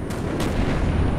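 A grenade blast in the shooter game Call of Duty: Black Ops, a loud booming burst with a heavy low rumble that rings on for about a second with no talking.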